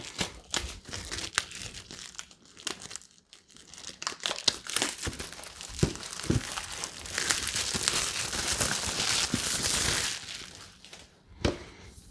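Packaging for AirPods Max headphones crinkles and rustles up close as the box is opened, with bursts of tearing and handling noise, brief pauses and no speech.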